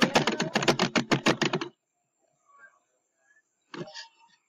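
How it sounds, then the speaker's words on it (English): Loud computer keyboard typing in a quick burst of close, sharp key strikes, then a pause with faint background sounds and a brief final clatter of a few more keystrokes. "Like his keyboard's really loud."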